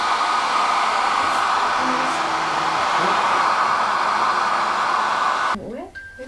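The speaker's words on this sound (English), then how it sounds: "I'm going to help you dry the hair." A hair dryer blowing on a baby's hair during an evening routine, a steady loud close whooshing hum for about five and a half seconds before it cuts off abruptly.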